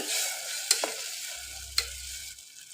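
Brinjal gravy stirred in a pan, a continuous soft sizzle with a few sharp clinks of a spoon against the metal and a brief low rumble midway, close and fairly quiet.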